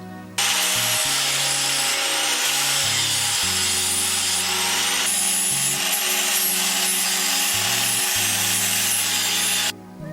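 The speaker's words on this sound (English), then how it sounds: "grinding the welded joints on the inner and outer rings so they end up smooth" An angle grinder smooths welded joints on the metal inner and outer rings of an armillary sphere sundial, a loud continuous harsh grinding hiss with shifting low hum, stopping at the end.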